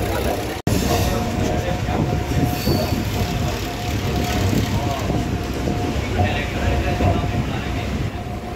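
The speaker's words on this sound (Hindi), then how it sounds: "सुन लो भाई रेल में पहुंच गए हैं" Inside a moving passenger train in Delhi, the carriage rumbles loudly and continuously on the rails, with wheel squeal and rattling throughout and a brief dropout near the start.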